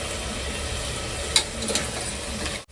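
Mint leaves being sautéed in a pan for cooker biryani produce a steady low sizzle with a couple of brief stirring scrapes partway through, close and continuous.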